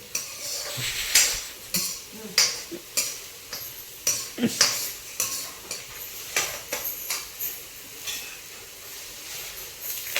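Curry leaves and chillies frying in a pan at home, a soft background sizzle punctuated by repeated spatula scrapes and clinks in an uneven rhythm, with no talking.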